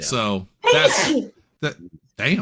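During a podcast, a voice is followed by a sudden, loud, close sneeze burst, then more short bits of talk.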